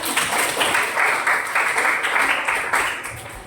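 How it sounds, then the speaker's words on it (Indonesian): A short burst of lively applause from a small group, many hands clapping steadily for a few seconds. "beri tepuk tangan untuk Fani."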